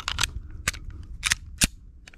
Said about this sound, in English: And fire when ready.